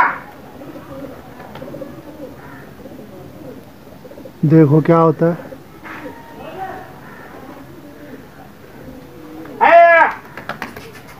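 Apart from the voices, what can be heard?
pigeons flying and cooing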